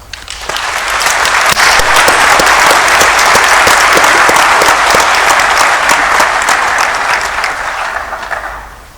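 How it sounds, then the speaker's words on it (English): A large graduation ceremony crowd at a faculty of natural and agricultural sciences applauds the graduates, a loud dense sustained wash of clapping that swells quickly, holds steady and tapers at the end. "Let's give the graduates a round of applause"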